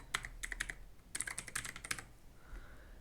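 A password being typed on a computer keyboard during Shopify account setup: close, crisp keystrokes in two quick irregular runs with a brief pause between, and a soft hum near the end.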